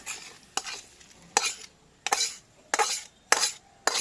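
A spoon scrapes through khichuri with winter vegetables in a pot, mixing in spices in about seven distinct, evenly spaced strokes. Each stroke is a short, close rasp over a faint background sizzle.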